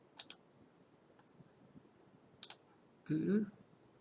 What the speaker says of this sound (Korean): 요거 워드패드 아이콘을 클릭해 줍니다